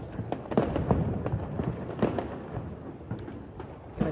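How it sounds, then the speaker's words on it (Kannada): Firecrackers burst repeatedly for a New Year night celebration, a string of distant and mid-range pops and booms with irregular rhythm over a rumbling background, moderately loud. "ಪಟಾಕಿ ಹೊಡಿತಾರೆ."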